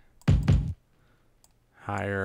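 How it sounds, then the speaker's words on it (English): A kick drum sample in Ableton plays twice as two close, punchy low hits, followed by a pitched-up tonal version that sustains brightly at the end. "if I transpose it, it's going to sound higher"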